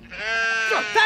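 A sheep bleats loudly and up close, a single sustained wavering cry lasting about a second with a slight rise at the end.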